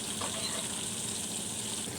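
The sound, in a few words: fish frying in a pan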